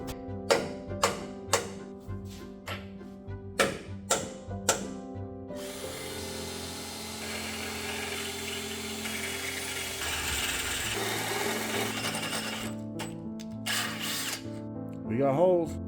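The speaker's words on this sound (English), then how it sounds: "I'm gonna punch some holes in that 1/4-inch plate and put some bolts through this baby." A drill bores holes through quarter-inch steel plate. A series of short motor bursts comes first, then a long, steady grinding run through the metal that tapers off, followed by a couple of closing clicks.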